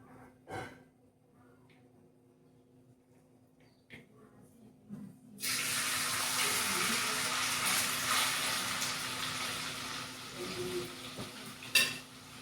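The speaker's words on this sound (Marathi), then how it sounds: "इकडे ऑइल गरम झालेलं आहे, तर थोडं थोडं आपण तळून घेऊया." Pieces of homemade Chinese bhel dropped into hot oil on low heat, setting off a steady, broad sizzle that starts abruptly and continues, with a faint clink of utensils near the end.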